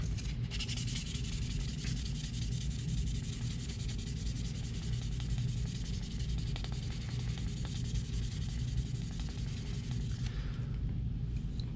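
A Logitech G Pro Wireless mouse shell being sanded by hand, a steady, unbroken abrasive rubbing that holds close and even for the whole stretch, with no voices.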